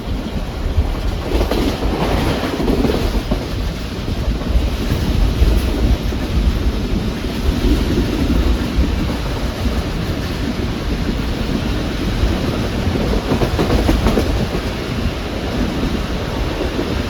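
A Pak Business Express passenger train, premium 33UP service from Karachi to Lahore, runs steadily on the rails with a continuous loud rumble and rushing noise heard from inside a carriage, with no talk.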